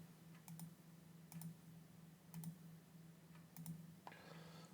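Computer mouse clicks, faint and close, coming in spaced pairs like double clicks over a low electrical hum.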